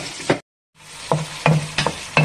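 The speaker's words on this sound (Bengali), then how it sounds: "এখানে পেঁয়াজ ভাজা হচ্ছে, একটু ব্রাউন কালার গোল্ডেন ব্রাউন হয়ে আসছে" Chopped onions fry and sizzle in oil in a pan while being turned, browning for tehari, with a brief silent gap followed by several close scraping stirs over a steady crackling sizzle.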